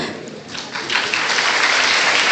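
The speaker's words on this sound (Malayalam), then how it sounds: "ഒരു നിറഞ്ഞ കയ്യടി ഒന്ന് നൽകാം" An audience applauds at a young innovators' meet as the chief minister is welcomed on stage, with a steady, full wash of clapping that swells after the first second and continues to the end.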